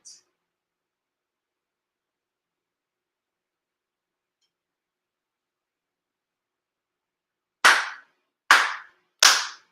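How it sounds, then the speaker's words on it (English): Three sharp, evenly spaced ritual hand claps ring out alone near the end during a Shinto monthly ceremony, following a long stretch of silence. "4 sincere claps along with the head officiant"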